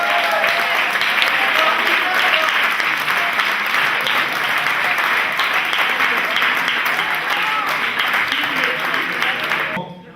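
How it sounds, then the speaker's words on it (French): Loud, steady applause from a crowd at a celebration of a sports club's second consecutive title, continuous clapping holding for about ten seconds before cutting off abruptly. "je voudrais qu'on applaudisse comme il se doit Michael Chetla pour son job."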